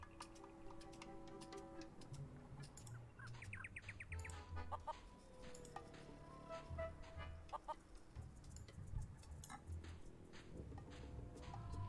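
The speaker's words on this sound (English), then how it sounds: "Plunder Island feral chicken, one of Plunder Island's most common fauna" Feral chickens on Plunder Island in The Curse of Monkey Island cluck and chirp in repeated bursts, with game music and other in-game sounds playing through the scene.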